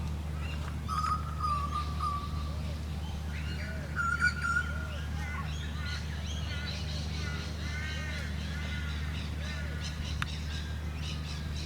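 Galahs, small Australian cockatoos, call in scattered squawks and chirps over a steady low hum, with overlapping harsh notes from a mixed flock at moderate distance.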